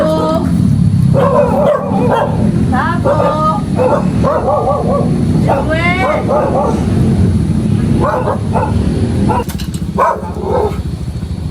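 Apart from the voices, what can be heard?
dog barking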